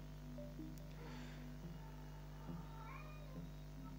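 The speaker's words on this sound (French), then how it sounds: "si vous entendez miauler, c'est rien," A pet cat named Calypso gives a few soft meows at close range over a steady low electrical hum in a quiet room. No one speaks.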